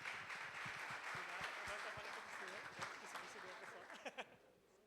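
Faint, distant audience applause at a cycle-tourism talk, a steady wash of clapping that fades out near the end, with voices murmuring underneath.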